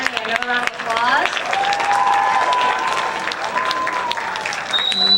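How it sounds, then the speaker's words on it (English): An audience at a school jazz concert applauds the soloists in a sustained, dense round of clapping, with voices and a few whoops mixed in throughout. "give Kevin, Leah, and Manny another round of applause."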